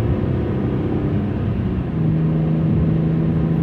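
BMW E46 M3 with an SMG transmission accelerating hard in drive, heard from inside as a steady, loud engine drone and road rumble, with a low engine tone rising and holding as it pulls.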